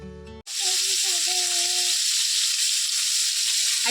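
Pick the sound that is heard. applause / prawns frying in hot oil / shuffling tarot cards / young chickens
prawns frying in hot oil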